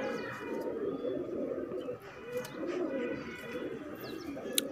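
Madrasi pigeons coo softly and steadily at close range, with low, rolling calls running throughout and a faint chirp near the end.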